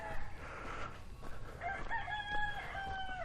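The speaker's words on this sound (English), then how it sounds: "Oh my God, you guys, roosters, noise pollution." Roosters crowing outdoors, a drawn-out cock-a-doodle-doo rising clearly over faint background clucking and ambient noise.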